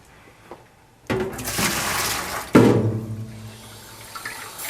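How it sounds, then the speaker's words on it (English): Water rushes and splashes while rinsing out an ice cream machine, a loud steady gush starting about a second in and swelling further midway before easing off, with no talk over it. "so I'm just going to do a quick rinse through there."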